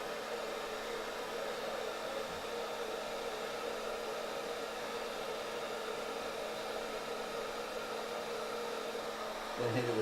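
A handheld hair dryer blows hot air onto a beard, a steady loud whooshing drone holding constant throughout, with a slight shift in tone near the end.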